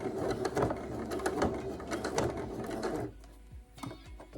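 A sewing machine back stitches the seam of a simple summer dress, its rapid mechanical whirring and clacking running for about three seconds, then a few quieter clicks.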